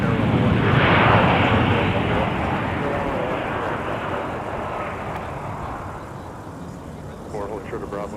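A jet airliner roars loudly at close range at Minneapolis–St. Paul airport, its engine noise swelling early and then slowly fading into a lingering rumble, with a voice briefly audible near the end.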